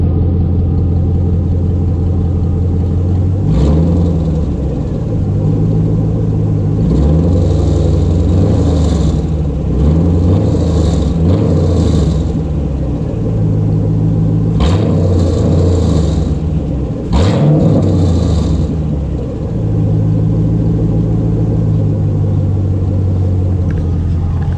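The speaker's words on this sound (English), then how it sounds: "I do want to get some before and after exhaust clips." A 2001 Camaro Z/28 V8 with a Speed Engineering exhaust and cold air intake idles with a loud, deep, steady rumble, rising in several short revs that swell and fall back, close and alone.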